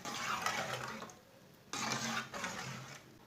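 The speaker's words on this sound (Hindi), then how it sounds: "1 प्याली पानी डाल लेंगे।" A cup of water is poured into a pan of egg curry, with a steady splashing gush that stops briefly and then resumes, close and moderately loud with no voices.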